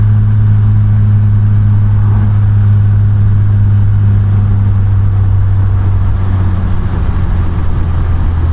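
A Triumph Vitesse MkII engine pulls steadily uphill in overdrive top gear with a deep, constant drone, loud and close, with no voices.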